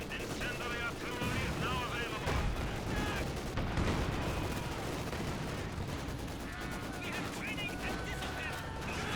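Battle in a strategy video game with machine gun and flamethrower fire, dense bursts of rapid gunfire and heavy booms layered together, loud and continuous throughout.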